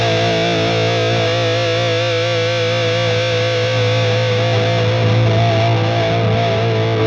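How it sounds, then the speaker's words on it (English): Electric guitar through a heavily distorted amp channel holds one thick, buzzing chord with endless sustain, loud and steady for the whole stretch, fading slightly only near the end. "I switch to the distortion channel"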